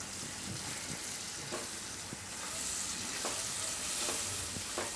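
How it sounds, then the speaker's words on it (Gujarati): Red chili powder sizzles in hot oil in a pan with tomatoes for a Gujarati garlic clove curry, a steady close frying hiss with faint stirring scrapes and no talking. "મિક્સ કરીને તરત જ આપણે એમાં ટમેટાં નાખી દેવાના છે, નહીં તો મરચું બળી જાય."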